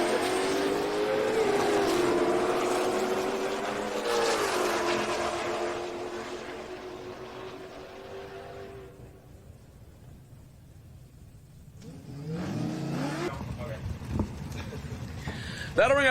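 A 2021 Shelby GT500 drag car at a drag racing event revs hard and pulls away, its engine a loud rising roar that fades into the distance, followed by another engine swelling up, while an announcer talks over it.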